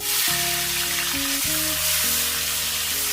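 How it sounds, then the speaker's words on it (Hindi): Onions go into hot oil with lightly sautéed cumin seeds for dhaba-style palak paneer. A broad, steady sizzle hisses throughout, with stepping melodic tones of background music playing alongside. "अब हम यहाँ पे ये प्याज ऐड करेंगे"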